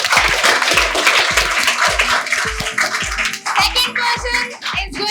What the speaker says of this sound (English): So clap for Daksh,